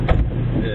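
A Porsche 911 GT3 RS runs a drift lap at Penbay with electronic driver aids switched off, its engine a brief, steady, close droning roar with a voice faintly over it.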